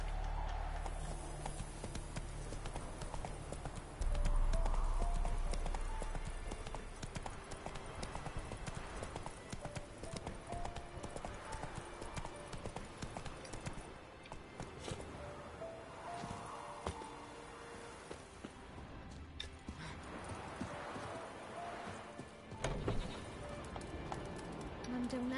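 The horse Roach gallops in The Witcher 3: Wild Hunt on PS4 Pro, a continuous rhythmic clip-clop of hooves under game music and ambience, with a voice speaking over it.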